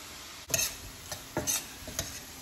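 Herbs such as rosemary, oregano, thyme, basil and sage being stirred into a tomato-based sauce in a pan on the stove: a few short scraping strokes with soft sizzling underneath, close and fairly quiet.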